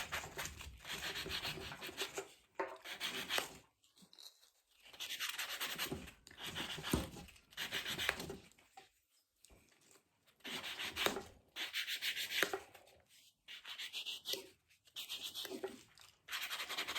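A coarse nail file buffs a fingernail in quick, close, rhythmic rasping strokes, coming in short bursts separated by brief pauses.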